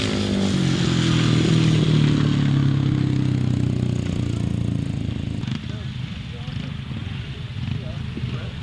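A grasstrack racing sidecar motorcycle engine fires back up and revs loudly and roughly close by, then drops to a lower, sputtering idle with clattering while a crowd murmurs in the background.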